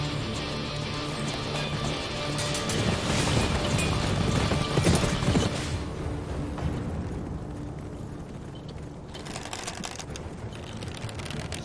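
Horses' hooves clip-clop in a steady clatter amid a dense, busy battle scene from a historical drama, with crowd noise and commotion swelling midway and easing toward the end.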